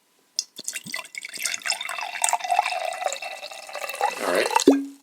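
Blueberry Blue Sun sour soda is poured, giving a bubbly, splashing liquid sound with fizzing throughout, ending in a short clink near the close.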